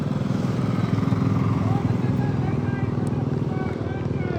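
A motorcycle overloaded with about eight riders passes on a road, its engine droning steadily and loudly throughout, with wind noise and people talking over it.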